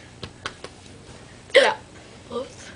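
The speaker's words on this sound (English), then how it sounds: "I got the hiccups." Three short, sharp hiccups come in quick succession, followed by a louder vocal hiccup and a softer one, close to the mic, with no other sound around them.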